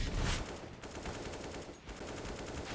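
Rapid automatic rifle fire in the game CS:GO, a dense loud stream of shots rattling almost continuously for nearly three seconds with no voices.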